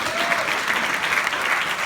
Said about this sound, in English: A round of applause for all the powerful women in here